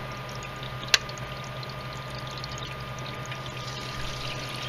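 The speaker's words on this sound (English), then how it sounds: "You can hear the water going through because we have 2 pumps" Water circulating through a dual-loop liquid cooling setup driven by two pumps, a steady low hum and faint trickle running throughout at a constant level, with one sharp click near the start.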